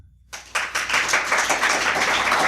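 A live podcast audience bursts into clapping after a short silence, many hands applauding together in a steady, dense wash that holds for a couple of seconds at close range.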